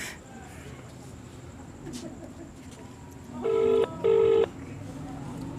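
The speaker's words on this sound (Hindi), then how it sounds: "फ़ोन मिलाया जा रहा है, देखते हुए उठा पाते हैं या नहीं" A phone dialing a number gives two short, clear, steady keypad tones one after the other over faint room noise and a low background hum.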